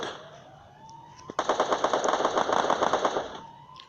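Rapid automatic gunfire from the Free Fire battle royale game, a sustained burst of loud, closely spaced shots lasting a few seconds, with quieter game sounds before and after.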